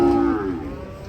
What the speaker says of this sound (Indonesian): Kedatangan sapi raksasa guys. Besar sekali sapinya nih.